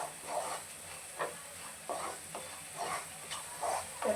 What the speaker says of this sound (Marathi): 1 मिनिटभर आपण हे मसाले चांगले फ्राय करून घेतले